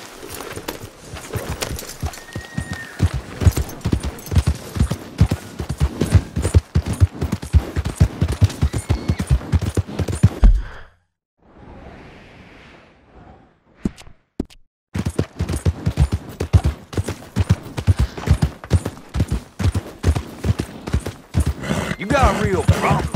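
A horse gallops at a steady, rapid rhythm of hoofbeats in Red Dead Redemption II, loud and close, breaking off into near silence for a few seconds before the galloping resumes.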